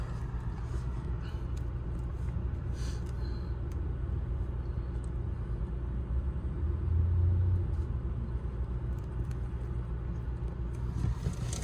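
A manual car idles in slow city traffic, its engine giving a steady low rumble throughout with faint road noise and a brief swell in the middle, no voices.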